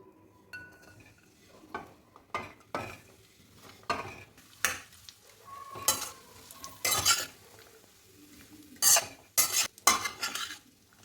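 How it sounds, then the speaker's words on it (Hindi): Chopped dates stirred and sauteed in hot ghee in a pan, with repeated scraping and clinking of a spoon against the pan in uneven bursts over a faint sizzle, close by and without talk. "इसे हमें अच्छी तरह से हिलाते रहना है और नरम होने तक सेकना है।"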